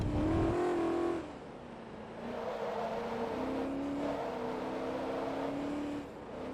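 Shelby Cobra engine in Forza Motorsport 2 revving hard as the rear wheels spin and slide, a steady loud drone that dips after the first second and then holds, with no talking.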